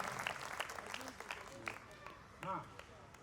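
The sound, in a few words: audience applause at a Hindi poetry recital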